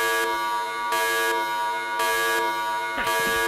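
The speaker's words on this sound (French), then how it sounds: "ou alors avec une giga sonnerie hyper méga forte" A very loud, harsh electronic alarm ringtone blares in repeated pulses of about a second each, piercing and continuous with no voices.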